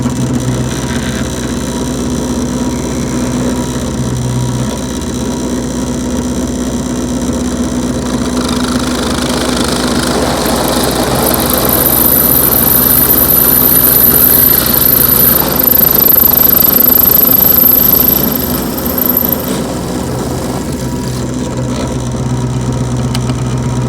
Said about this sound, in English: let me drill out this hole to the